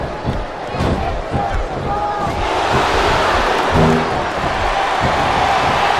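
A crowd chants loudly in a WWE SmackDown vs. Raw 2007 wrestling arena, a steady roar of massed voices with rhythmic thumps and slams underneath throughout.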